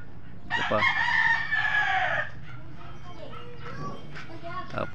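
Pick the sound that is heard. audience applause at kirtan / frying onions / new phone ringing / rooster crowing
rooster crowing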